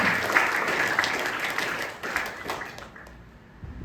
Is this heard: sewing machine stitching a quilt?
no